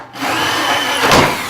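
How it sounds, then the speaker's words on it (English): A power drill bores a hole through copper pipe, a loud, close, continuous grinding whir that builds to a harsher bite as it cuts through. "so use a drill, and we're going to cut this"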